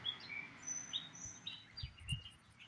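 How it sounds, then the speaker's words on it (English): Several small birds chirp and tweet in high, quick calls, fairly faint and distant, with a few soft thumps in the background. "Listen to the fucking birds."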